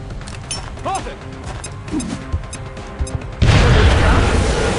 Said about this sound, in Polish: Czyli jednak wykorzystam granat.